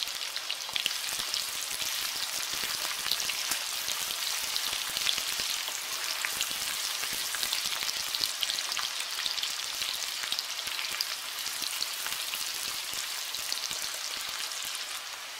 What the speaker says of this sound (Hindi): और प्याज को फ्राई कर लें थोड़ा सा।